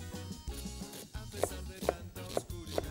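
Onion being chopped on a board with a knife, several crisp, evenly spaced knife strikes over a low background hum, close and clear, with no talking.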